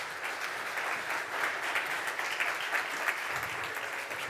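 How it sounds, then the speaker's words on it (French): An audience at a conference round table applauds panel guests arriving on stage, an even wash of clapping from a moderate distance that holds steady for about four seconds. "On peut les applaudir, ça leur fera plaisir."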